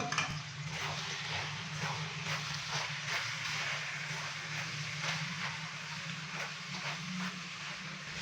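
Fried okra being stirred into keema in a pan gives a steady, close sizzle and hiss with soft scraping and stirring knocks throughout.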